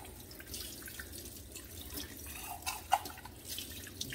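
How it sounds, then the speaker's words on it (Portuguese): Water runs steadily from a tap while a glass jar is rinsed in a sink, with a continuous splashing wash and a few louder drips and clinks near the end. "Vamos enxaguar bem esse vidro."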